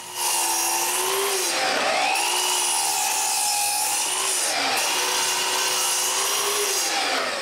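A power saw cuts small pieces from a leftover cedar board, making a loud, steady whine. The pitch sags and recovers a few times as the blade bites through the wood.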